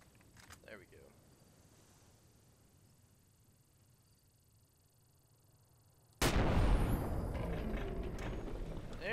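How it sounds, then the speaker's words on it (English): A single loud sniper rifle shot from Fallout New Vegas cracks abruptly after a quiet stretch, followed by a sustained roar of reverberating noise. "Two more lazy bullets in my sniper rifle."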